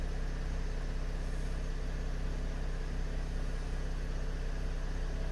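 A 2012 Chevrolet Camaro V6 engine idles with a low, steady hum and an even rumble, quiet and unchanging for the whole stretch.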